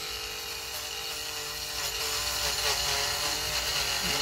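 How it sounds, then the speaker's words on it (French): A small rotary drill carves juniper deadwood, giving a continuous high whine with a bright grinding edge that grows slightly louder partway through. "l'avantage de ces petites perceuses, c'est qu'on peut accéder à peu près partout"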